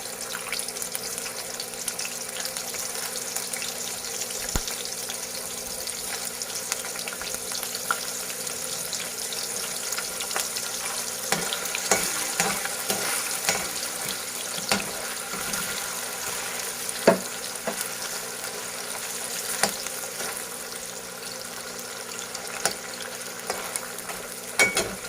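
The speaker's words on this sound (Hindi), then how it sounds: "उसमें ऑयल हमारा गर्म हो चुका है। उसके बाद मैं इसमें पनीर डालूंगी फ्राई करने के लिए" Paneer frying in hot oil in a kadai over a medium flame, a continuous crackling sizzle with splashy, watery bursts and intermittent stirring clatter, steady and close with no voices.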